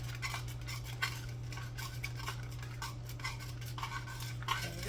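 A knife swirls through earthquake cake batter with coconut and nuts, making a quiet, continuous scraping and light clinking over a low background hum.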